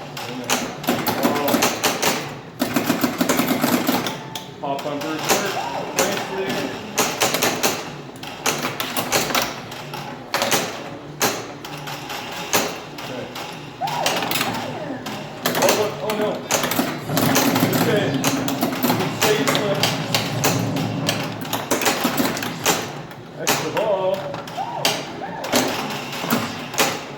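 An Earth, Wind and Fire pinball machine fires its pop bumpers and switches in rapid clattering bursts of mechanical thumps and taps, with people talking over the busy rattling.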